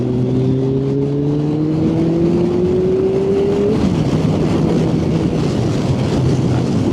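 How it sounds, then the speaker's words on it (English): Morning ride on a GTR motorcycle, steady loud engine drone with a tone rising as it accelerates, then settling, all under constant wind buffeting. "Don't you just love the sound of that GTR just whacking up the wind this morning?"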